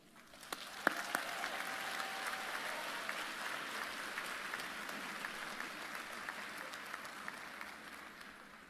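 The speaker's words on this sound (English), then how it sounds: "Please join me in applauding this remarkable leader." A large audience applauds steadily at a university commencement ceremony, dense clapping rising quickly and holding at an even level throughout.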